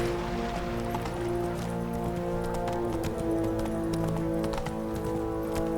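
Roach, a horse in The Witcher 3, gallops with steady, close clip-clop hoofbeats over constant game music and ambience, running the whole way through without a break.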